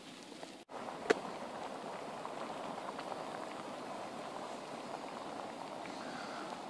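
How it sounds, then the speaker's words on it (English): Water coming to a boil on an SVEA camping stove gives a steady, moderately quiet bubbling hiss with a faint burner roar underneath, constant throughout apart from one sharp click near the start. "This is coming to a boil."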